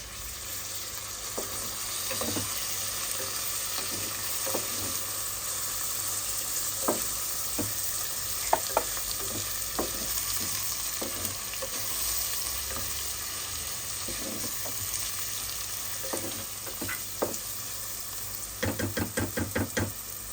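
Tomatoes fry for chicken biryani in a steady close sizzle, with a spoon stirring and knocking against the pan at scattered moments and a quick run of taps near the end.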